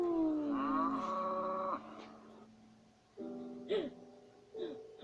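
A cow lets out a long, loud, close moo, followed by two shorter moos after a pause.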